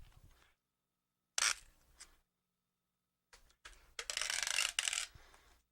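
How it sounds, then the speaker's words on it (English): Tape is pulled off a roll in loud, close ripping and screeching bursts and wound tightly around a radio packed for shipping. The bursts are broken up by short silences, with no speech. "I'm going to tape it very tightly together."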